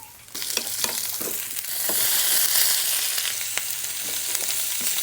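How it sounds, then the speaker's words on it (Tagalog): Ginger, garlic, onion and chili sauté in a hot pan for Filipino adobo in coconut milk, giving a steady close sizzle with scattered scraping stir clicks and no voices. "gisa na tayo ng luya"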